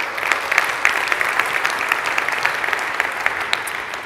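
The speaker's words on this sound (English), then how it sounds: "Let's give them a round of applause" A conference audience at Phocuswright applauds the Hot 25 travel startups with a steady, dense round of clapping that holds for the whole stretch without a break.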